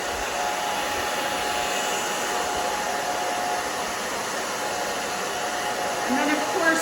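A hair dryer blows continuously at close range while drying hair after a bob haircut, a steady whooshing roar with a faint whine, with a brief bump of handling at the end.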